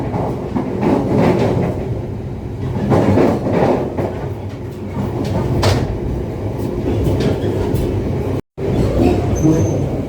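The Argo Wilis passenger train running slowly on a winding, gently uphill line in West Java, heard from inside as a loud continuous rumble with rhythmic wheel clatter and swaying carriage noise, a brief dropout near the end.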